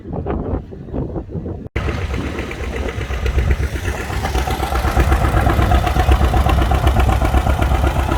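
Antique tractor engines run at the Florida Flywheelers antique engine and tractor show, a loud, steady mechanical chugging and rumble that builds after a brief quieter start with a sharp break near the beginning.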